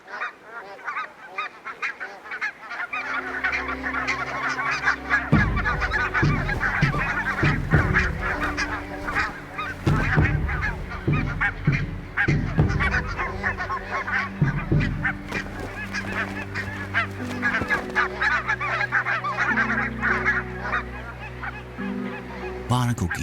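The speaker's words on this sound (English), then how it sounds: "Barnacle geese only use the small island as a breeding ground, not as a foraging ground." Barnacle geese crowd a small breeding island, a loud continuous chorus of overlapping honks and calls from many birds close by, lasting throughout without a break.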